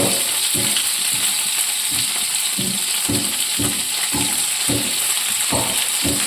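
Chopped beans fry in hot oil with a steady background sizzle, while rhythmic spatula strokes scrape and stir the pan about once every half second.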